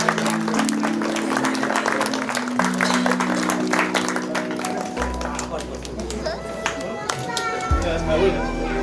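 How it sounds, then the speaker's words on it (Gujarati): An audience at a retirement ceremony at a press office claps steadily, a dense continuous patter of applause under a voice speaking over an amplified sound system. "તાળીઓના ગડગડાટ ચાલુ જ રાખીશું"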